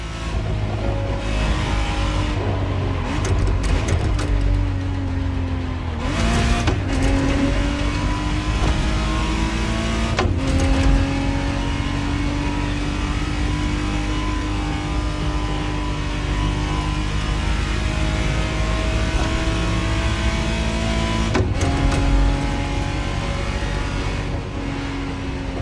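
A 1991 Ferrari Testarossa flat-twelve engine drones loudly and steadily in The Crew Motorfest video game, with sustained revving, several sharp shifts and rises in pitch, up close throughout.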